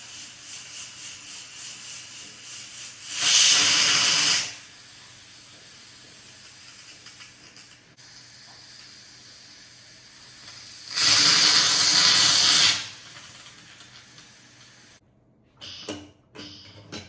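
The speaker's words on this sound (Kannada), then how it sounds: "ಇವಾಗ ಇದು 2 ವಿಷಲ್ ನೋಡ್ಸೋಣ." A pressure cooker cooking moong dal lets out two loud hissing steam whistles, each lasting about a second or so and spaced several seconds apart, over a quiet background hum, followed by a few soft clicks.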